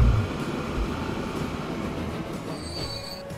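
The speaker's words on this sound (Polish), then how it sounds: "Bardzo szybko te pociągi hamują." Trains braking as they enter a station in the Transport Fever game: a loud, sustained rumble of rolling wagons, with a high squeal of braking wheels rising near the end.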